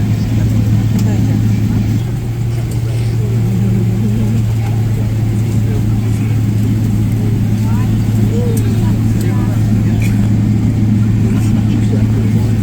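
Steady road traffic in a Dubai jam, a continuous engine drone and low hum running unbroken throughout, with voices talking over it.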